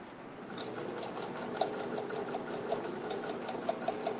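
A sewing machine stitches a seam on a tiny fabric mini backpack, a faint, steady rapid clatter of the needle running close by with a soft motor hum underneath.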